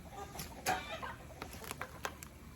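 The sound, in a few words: turkeys gobbling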